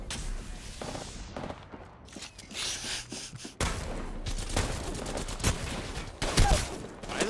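Gunfire from a crouching player in the shooter video game Apex Legends: a loud, sustained volley of rapid shots rattling close by, breaking into a sharp, heavier burst midway and continuing with dense automatic fire.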